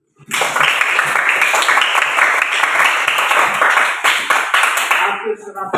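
Classroom applause, a full room of students clapping loudly and steadily for about five seconds before it tapers off.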